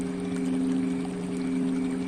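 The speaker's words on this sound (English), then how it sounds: "you can hear the sound of the water" Flowing water in meditation music, a steady pouring wash running continuously beneath a sustained low tonal drone, likely a gong, alone with no voices.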